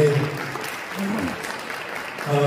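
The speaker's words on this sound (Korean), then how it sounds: "이 교회와 이 나라 우리를 사랑하신 주님께 감사의 박수를 드리겠습니다" Audience at a church and politics forum clapping in a hall, a moderate burst of applause that dips in the middle and swells again at the end, with a voice intermittently over it.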